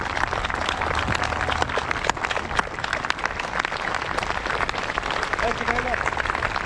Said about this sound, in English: Will you clap with me now, in their memory?